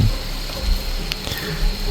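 Flowing stream water in the Roblox game Mount Kenya, a steady rushing wash heard alone, fairly loud and continuous.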